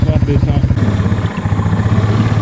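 Carbureted Honda 300 engine running roughly, a close pulsing motorcycle-like chug that loses its beat partway through as it stumbles and cuts off, with a voice heard over it.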